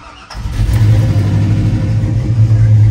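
A car engine cranks and catches, then settles into a loud, steady idle with a slight rev, heard up close and alone.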